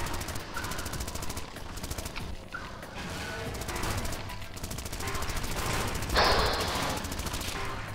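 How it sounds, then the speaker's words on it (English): Rapid, sustained machine-gun fire from the Zombie Driver game rattles on continuously for the whole stretch, with a brief bright crash partway through. "And more machine gun"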